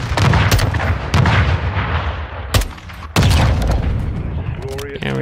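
Dense, loud gunfire in Call of Duty: Modern Warfare 2, with rapid automatic bursts and heavy booming shots overlapping throughout and brief pauses between volleys, with a voice briefly heard near the end.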